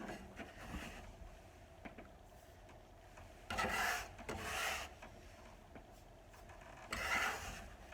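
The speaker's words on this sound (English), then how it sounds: "I'm just going to try and scrape some of this flour off here and make a clean work surface for myself" Flour is scraped off a work surface in a baking kitchen, three distinct rasping strokes, each about a second long, separated by quieter gaps with faint taps and rubbing, close and moderately loud.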